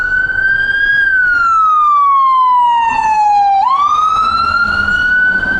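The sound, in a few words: ambulance medic unit siren in DC traffic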